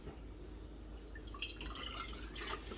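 Beef bone broth ladled from a pot, one ladle at a time, giving soft close liquid trickles and drips over a steady low kitchen hum, with no talking.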